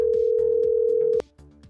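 A telephone tone sounds steadily for about a second, then cuts off abruptly and is followed by faint clicks.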